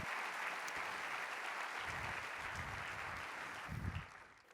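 A church congregation claps steadily at moderate distance, a continuous wash of applause that swells slightly near the end before fading.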